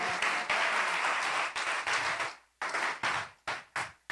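A church congregation applauds in loud, dense clapping that comes in bursts, breaks off briefly, then resumes in shorter uneven rounds.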